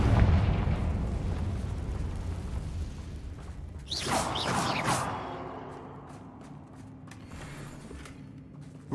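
A Confringo blasting spell explosion in the Hogwarts Legacy video game, a rumbling environmental din punctuated by a bright crackling burst midway that fades into a lingering low hum.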